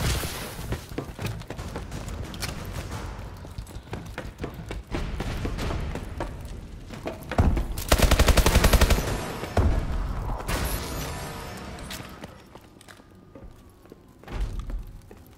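Rapid automatic gunfire and bursts of shooting in a hardcore search-and-destroy match of Call of Duty Advanced Warfare, loud and close, with a heavy explosive blast in the middle and dense clattering throughout.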